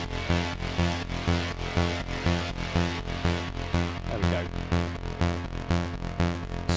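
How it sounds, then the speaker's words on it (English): A Eurorack VCO running through a Cwejman El Capistan tape echo plays a steady, bass-heavy repeating pattern with evenly spaced pulses and echoing tails, alone with no talking. "So what you're hearing now is just the even VCO"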